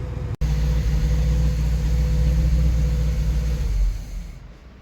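A 1968 Pontiac Firebird idling in a garage, a steady low rumbling engine with an even pulse, loud and close, that carries on for several seconds and then fades away toward the end.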